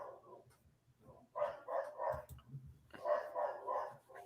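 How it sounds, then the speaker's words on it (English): Dogs bark repeatedly along subway tracks in a video game, with bursts of yapping and barking in two clustered groups and quiet gaps between them. "A lot of dogs in these subway tracks."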